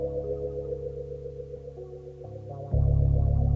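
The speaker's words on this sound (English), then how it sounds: "just that real creepy keyboard part starts up" Eerie sustained keyboard chords from a rock song, held steady and fairly loud, then swelling into a fuller, heavier chord near the end.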